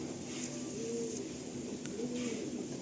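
Pigeons coo softly in the background, two rounded murmuring calls against a low, steady ambient hiss.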